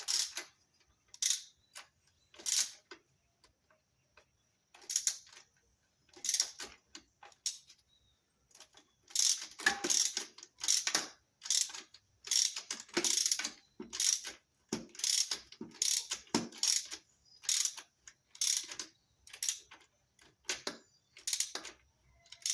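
A ratchet wrench turning a 17 mm socket gives repeated bursts of rapid clicking pawl ticks, close and crisp, in irregular strokes separated by short pauses over about twenty seconds, with no talk.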